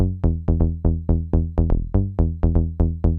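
Serum synth bass with drive at 28% and filter resonance at 13 pulses through a rhythmic pattern of punchy, buzzy notes with sharp attacks and quick decays, up front and unaccompanied by voices.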